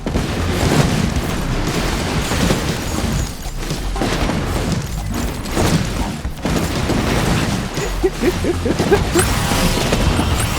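Bomb explosions in the game Bomb Bots Arena, a busy stream of booms and crashing bursts that overlap continuously with brief dips, plus small electronic chimes near the end.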